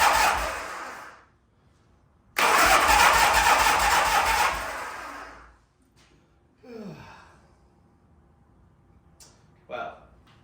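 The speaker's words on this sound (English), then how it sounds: "Let's see if it'll turn over." An old Harley-Davidson motorcycle engine with fresh spark plugs cranks over in two loud bursts, a long one of about three seconds and a shorter one after, followed by quieter clanks and a faint squeak.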